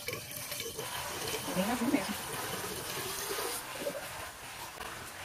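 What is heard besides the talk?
water poured into Chevrolet Onix windshield washer reservoir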